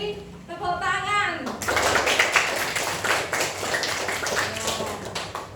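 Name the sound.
audience applause for a group of children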